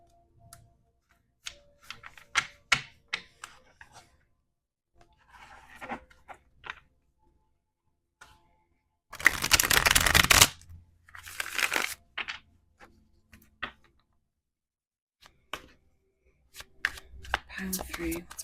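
Tarot cards being shuffled in scattered bursts of riffling and flicking, with one longer dense shuffle in the middle, close and fairly quiet, while a person talks on and off.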